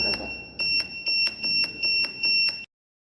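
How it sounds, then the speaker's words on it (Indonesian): A shrill electronic buzzer driven by a capacitor oscillator circuit beeps in a steady pulsing pattern, about six bursts in quick succession, loud and close, then cuts off into silence. "menghasilkan sinyal osilasi yang mengaktifkan buzzer untuk menghasilkan suara yang dapat kita dengarkan bersama pada video tersebut"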